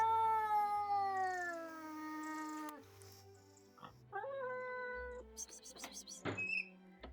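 A large cat meows on a village street, first a long drawn-out cry, then a few shorter meows with some thumps and small noises between them, fairly close.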